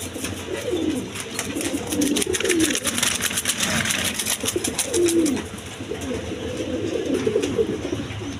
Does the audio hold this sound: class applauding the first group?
no